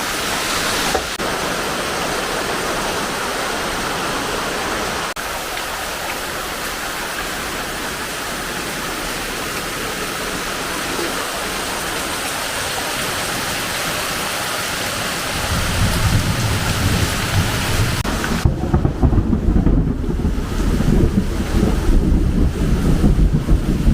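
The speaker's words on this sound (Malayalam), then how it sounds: "ഭയങ്കര മഴയാണ്" Heavy rain pours down at Kuttikkanam during a power cut, a dense continuous roar of water that deepens into a louder, rumbling wash toward the end, with no talking.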